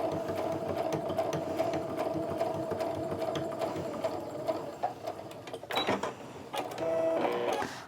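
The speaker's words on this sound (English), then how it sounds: "I'm going to go ahead and pull the pin so I can sew all the way down through there" A sewing machine runs a steady, buzzing stitch through a pleated fabric wristlet, close and continuous, pausing briefly before resuming with a few clicks and a short faster burst.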